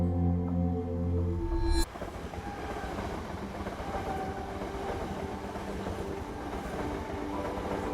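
Train running on India's longest route, a long-distance passenger service; a loud low rumble cuts off abruptly, then a steady close rattle and clatter of the carriage continues alone.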